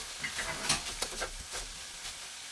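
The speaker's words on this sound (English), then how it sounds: "when those onions are starting to sizzle" Onions frying in a pan while a risotto is being made, giving a soft, steady sizzle with light stirring and scraping clatter on top, fairly quiet and close, with no talk.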